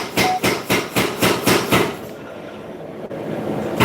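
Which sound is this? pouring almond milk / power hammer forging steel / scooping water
power hammer forging steel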